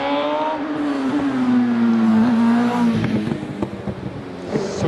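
A race car at the Doune British Hillclimb Championship accelerates hard uphill past Garden Gate toward Junction at about 109 mph, its engine note rising and holding as a loud steady drone that thins toward the end.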